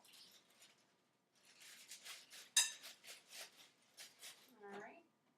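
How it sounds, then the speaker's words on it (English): Dry boxed cake mix pours from an opened bag into a bowl as a soft, uneven rustling patter with a few brief scraping bumps, close and moderately quiet, no talking. "We're going to dump all the mix into the bowl."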